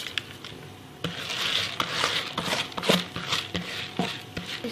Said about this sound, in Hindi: चावल इसमें जा रहे हैं।